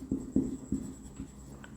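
Chalk or marker tapping and stroking on a board in a classroom, four or five distinct close strokes in a quick uneven rhythm.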